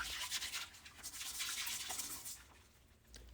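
An old toothbrush scrubs a surface while a dirty bathroom is being cleaned, giving a steady, soft, hissing bristle rasp in repeated short strokes, close up with no talking.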